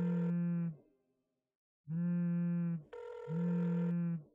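A telephone rings in loud, buzzy tones, one burst, a pause, then two overlapping rings close by.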